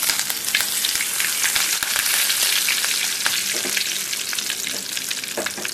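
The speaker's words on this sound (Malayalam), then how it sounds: "ഇനി കറിവേപ്പില ഇടാം" Curry leaves fry in hot oil in a clay pot with a loud, steady sizzle and crackle that lasts the whole time, close up and with no talking.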